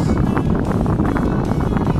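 Steady whooshing of air from a mini desk fan blowing close to the microphone, constant and fairly loud, with a rough buffeting texture and no talking.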